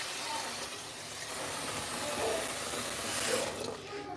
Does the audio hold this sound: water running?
yes